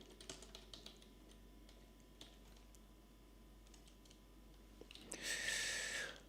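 Bursts of clicky typing on a computer keyboard, close and fairly quiet, with pauses between runs of keystrokes; a brief louder hiss-like noise near the end.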